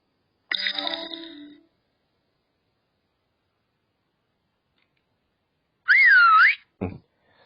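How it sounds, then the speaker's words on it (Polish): A short bright whistle-like email notification chime sweeps up and down once, followed by a brief low thump, after a separate burst of tone earlier; otherwise silent. "Mamy gwizdnięcie."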